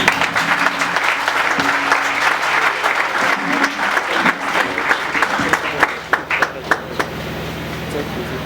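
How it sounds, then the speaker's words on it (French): Crowd applauding for their leader at a gathering marking the second year of political alternation in DR Congo, steady clapping that thins into sharper scattered claps toward the end, with voices and a speaker audible over it. "Pouvons-nous acclamer pour notre leader?"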